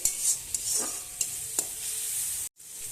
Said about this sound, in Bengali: একটু ভালো করে কষিয়ে নিতে হবে, নাহলে মশলার গন্ধ করবে।